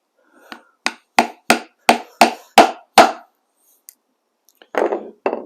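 A hammer sets a rivet in leather with seven sharp, evenly spaced strikes, close and loud, followed by a pause, a faint tap and a couple of softer handling noises.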